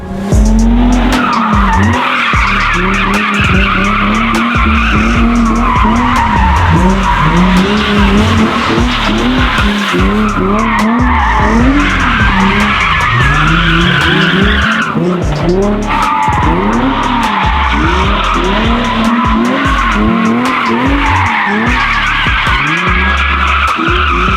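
A takeover car drifts around a private course, tires skidding and squealing in long, loud sweeps over a steady, rising-and-falling engine roar, close and continuous throughout.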